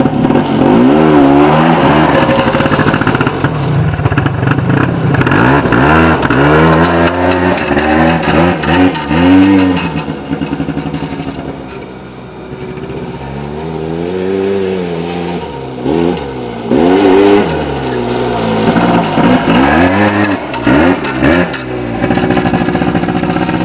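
A Polaris 90 revs repeatedly during an outdoor ride-around after a cold start, its small engine rising and falling in pitch through throttle blips and sustained pulls, loud and close throughout with a brief lull midway.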